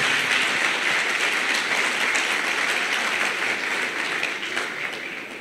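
Sustained applause from a congregation at an extraordinary general assembly founding an O Brasil para Cristo church, many hands clapping in a dense, even wash that gradually thins and fades toward the end.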